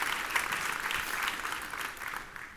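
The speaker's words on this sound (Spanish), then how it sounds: "dale un fuerte aplauso al Señor." A church congregation claps strongly during a Spanish-language service, a thick, continuous burst of many hands. It stays loud and steady for a couple of seconds, then eases off slightly.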